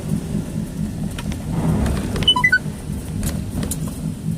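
Rain and thunder from inside a vehicle on a highway: steady rain patter with a low rumble and road noise throughout, plus a few brief ticking sounds in the middle.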